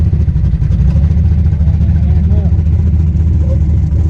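A twin-turbo tunnel-ram Chevy Nova's engine runs loud and close with a rough, uneven note, the carburetor missing and the engine breaking up, with someone talking over it.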